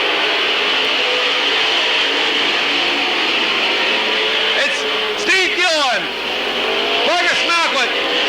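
Race cars roar around the oval at Midvale Speedway, a loud continuous engine drone with several cars sweeping past in rising and falling bursts, while an announcer talks over the noise.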